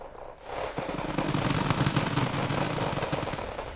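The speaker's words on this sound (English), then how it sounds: "right now, I'm employing defensive mortars, just to keep the enemy busy there" Defensive mortar fire in the strategy game Wargame: Red Dragon, a dense, continuous rattle of rapid blasts and booms that starts after a brief quiet moment and keeps rolling loudly to the end, with no voices.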